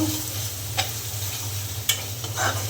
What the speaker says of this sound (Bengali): স্বাদ মতো লবণ মশলা খুব ভালো করে আমি কষিয়ে নেব